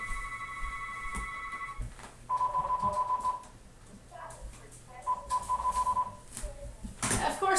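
A telephone ringing in bursts of steady electronic tone that stop and start, fairly quiet against a room background with some clicks and shuffling.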